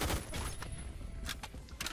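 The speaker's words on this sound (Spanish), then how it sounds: "ya se escucha movimiento y disparos y cosas" Gunfire in the online shooter Phantom Forces, a few faint distant shots and bursts popping over a dull background rumble, quiet and scattered.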